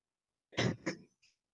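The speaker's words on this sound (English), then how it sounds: "That's why I'm coughing." A man coughs and clears his throat while suffering from a cold: two short, husky bursts close to the listener, followed by a faint rasp, set against otherwise silent surroundings.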